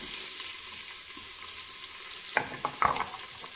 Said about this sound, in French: Lorsque vous sentez que votre huile a chauffé, on va rajouter nos oignons